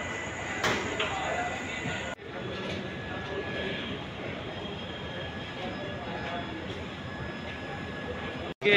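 The Sealdah Balurghat Express with new coaches, hauled by a WP7 locomotive, running along the track, a steady loud rumble and rattle from inside the carriage, briefly broken by a sharp clunk, while someone talks.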